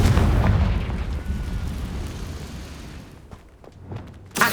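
A Confringo fire spell explodes in Hogwarts Legacy, a loud booming blast with a rumbling tail that slowly fades, then a smaller burst near the end.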